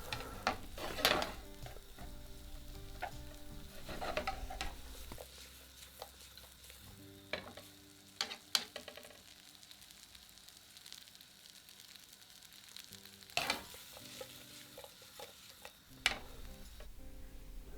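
Steady sizzling of potatoes and onions sautéing in a pan for Lyonnaise potatoes, punctuated by occasional scrapes and stirs, with no voices.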